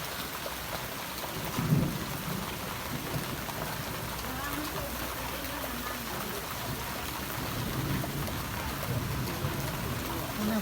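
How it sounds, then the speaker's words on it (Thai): Heavy rain pours steadily with a rumble of thunder, a dense constant wash with a low boom near the start and faint voices underneath. "ฝนตกเนา"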